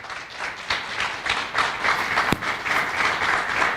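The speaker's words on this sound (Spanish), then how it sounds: "Dale un fuerte aplauso al Señor." A church congregation gives a loud, sustained round of applause, dense clapping rising and falling steadily for the whole stretch with no voices standing out.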